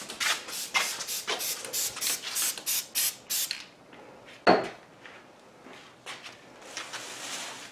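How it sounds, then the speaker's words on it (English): Spray adhesive hissing from an aerosol can onto a screen-printing pallet before a t-shirt is laid down, a series of short close bursts followed by scattered handling clatter and a few fainter hisses. "let you spray the adhesive and put the t-shirt on"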